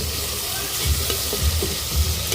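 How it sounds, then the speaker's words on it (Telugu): Vegetable pieces stirred as they fry in a pan, with a steady close sizzle broken by a few low scraping thumps of the spoon. "ముక్కలు వేసిన ఒక పది నిమిషాల తర్వాత మా అమ్మ కదిలిస్తుంది ఇప్పుడు"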